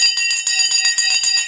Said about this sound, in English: The bell has gone.